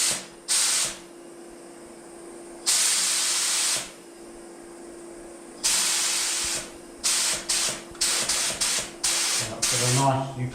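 A spray gun loaded with thinners, used for scooter bodywork, gives repeated bursts of loud hiss, long blasts at first and then shorter quick sprays toward the end, with a steady faint hum between bursts.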